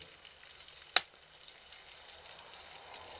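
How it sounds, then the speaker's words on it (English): Minced cured pork fatback sizzles faintly and steadily as it melts in a hot pan, a soft continuous hiss broken once early by a sharp click. "Now we place the minced cured pork fatback in a hot pan and let it melt."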